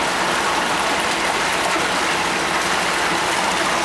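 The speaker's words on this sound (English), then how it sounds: "There you have the wave again. Moving down the flume." Water rushes steadily down a laboratory flume as a wave travels along the channel, a broad continuous wash of noise at moderate level with no voices.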